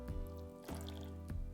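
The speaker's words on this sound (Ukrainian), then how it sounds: "виливаю сюди 30 мл води" Water poured into powdered sugar for Easter bread icing, heard as a few soft drips and trickles close by, quiet and brief with small splashes spaced apart.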